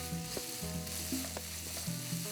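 Onions, ginger and garlic fry in a pan for a Kerala-style roasted chicken curry, giving a steady close sizzle with occasional stirring scrapes and clinks.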